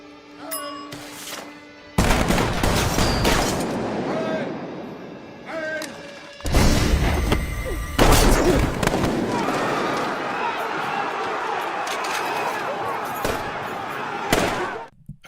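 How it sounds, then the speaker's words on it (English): Honor guard fires ceremonial rifle volleys on command, several sharp loud cracks ringing out with echoing tails, shouted commands between them. "Ready? Aim. Fire."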